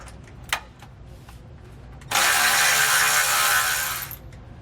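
A wrench or ratchet works a bolt loose from a vehicle frame while installing air helper springs on a 2011 Tiffin motorhome, giving a short click, then a loud sustained rasping burst of about two seconds up close.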